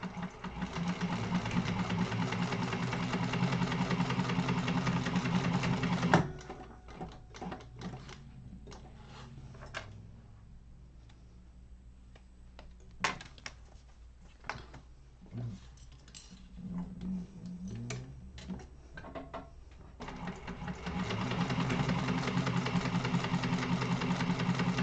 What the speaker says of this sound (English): just sew that seam